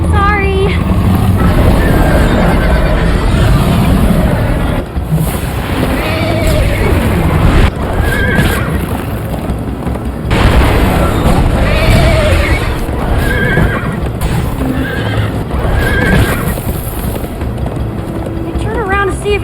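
Horses whinny and hooves pound in a galloping rhythm in the Minecraft Story Mode video game, loud and continuous, with repeated neighs over rushing wind and voices speaking throughout.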